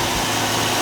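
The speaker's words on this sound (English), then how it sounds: "the choke idle up is actually working" A 1966 Buick engine, a barn-find car, idles on the choke with a steady, continuous running note, close and fairly loud throughout.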